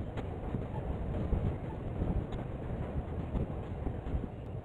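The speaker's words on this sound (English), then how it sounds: "This freight is led by an FP7 down the double-track speedway of the Rf&P." An RF&P freight train led by an FP7 locomotive rolls down a double-track main line, giving a steady low rumble with wind buffeting and faint rail clatter and no talk.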